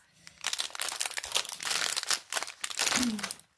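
Paper is crumpled and crinkled close by in repeated crackling bursts, with a brief faint voice near the end.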